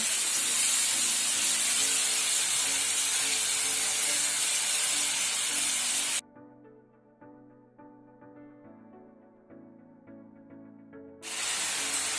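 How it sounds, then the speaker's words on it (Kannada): Chicken pieces with yogurt frying in a pan for restaurant-style butter chicken give off a loud continuous hissing sizzle, broken by a stretch of quiet soft music before the sizzle returns. "ಈ ಚಿಕನ್ 10 ನಿಮಿಷ ಫ್ರೈ ಆಗಬೇಕು ಚೆನ್ನಾಗಿ."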